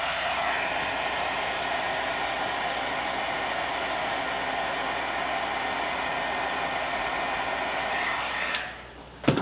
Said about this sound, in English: Hit that with my heat tool.